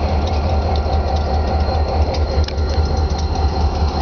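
A short four-car train on the Berkshire Hills line sits close by, its engine holding a steady low idling drone with faint ticks and clicks on top, no talk.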